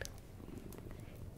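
A cat purrs softly and continuously in a lap beside a fire, a low, even rumble that is faint and close with no talking.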